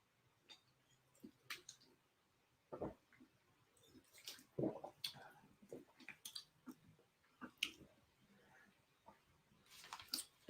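Someone drinks water on a live sports-talk stream: faint, close sips, gulps and small mouth clicks come in scattered bursts over a quiet background, with a few soft breaths between them.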